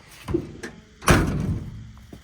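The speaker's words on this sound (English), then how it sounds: "that door slams so much nicer than June does" A car door slams shut with a solid thunk on an old vehicle being stripped, its floor covered in mouse nests, one loud close impact preceded by a few quieter knocks and handling sounds.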